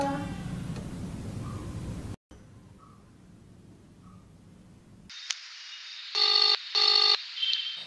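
A telephone is dialed to call someone, first faint room noise, then a few short electronic tones and two longer buzzing ring-like tones, close and moderately loud.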